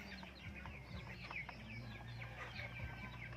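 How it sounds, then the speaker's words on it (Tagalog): Native free-range chickens, including a hen with young chicks, cluck continuously at close range, with soft chick peeps woven through the low farmyard clucking. "mayroon ng sisiw yung aking inahin. So yan, so kahapon ko lang ito pinababa. Yan, so masigla yung mga sisiw."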